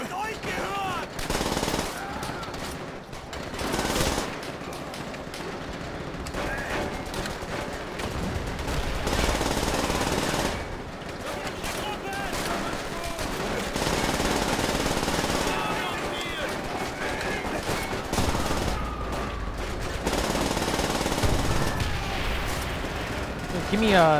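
Sustained machine gun fire from the video game Call of Duty: World at War, dense rapid bursts with loud explosive gunfire running throughout, mixed with battle noise and a game soundtrack.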